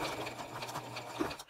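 Sewing machine running a zigzag stitch on a headband, a fast steady mechanical chatter, close and fairly quiet, continuing for the whole moment before stopping.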